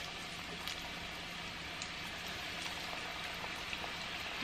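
Garlic parmesan salmon bites crisping in a pan give off a steady, dense sizzle, an even crackling hiss with scattered pops that carries alone at moderate volume throughout.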